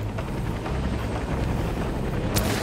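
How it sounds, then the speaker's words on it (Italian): A helicopter in the video game InFamous: Second Son gives off a low, continuous rumbling drone with a steady rotor roar, ending in a brief sharp burst near the close. "Allora, elicottero."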